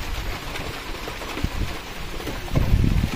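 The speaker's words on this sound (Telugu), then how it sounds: "పడుతూనే ఉన్నాయి ఇక్కడ దాకా సినుకులు." Rain falling on a lorry during a trip, a dense, steady patter with gusty wind noise and a few heavier bursts of drops near the end, close and fairly loud with no talking.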